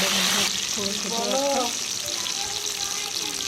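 Potatoes frying in hot mustard oil in a wok with dried red chilli, bay leaf and cumin, a continuous close crackling sizzle with a sudden burst as they go in, while a voice talks over it.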